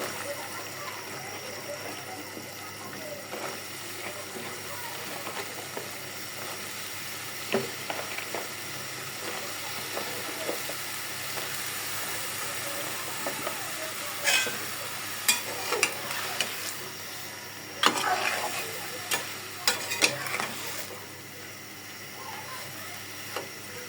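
Dried fish curry with spices sizzles softly in a pan while being sautéed and stirred, a low continuous frying hiss with scattered scraping and clinking strokes growing more frequent later.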